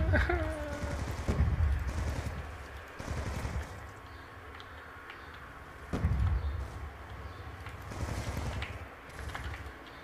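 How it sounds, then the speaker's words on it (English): An automated sentry gun fires in a Call of Duty multiplayer match on the Nuketown map, with several bursts of rapid gunfire separated by quieter stretches of game ambience. "your sentry gun is wrecking people"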